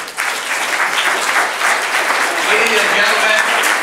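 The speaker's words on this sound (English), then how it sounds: "give a round of applause" Sustained audience applause fills a town hall gathering, broad and dense throughout, with a voice addressing the crowd over it at the start.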